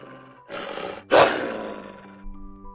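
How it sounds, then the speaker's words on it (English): Wild beasts give a terrifying roar right behind a group of travellers in a Wizard of Oz story, a rumbling growl swelling into a loud, close bellow that slowly fades away. "they heard a terrifying sound of beasts right behind"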